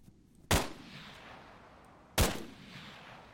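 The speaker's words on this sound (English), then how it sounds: "He was lining up a shot and had to shoot." Two sharp gunshots in the video game Arma 3, each a sudden loud crack with a short echoing tail, about a second and a half apart.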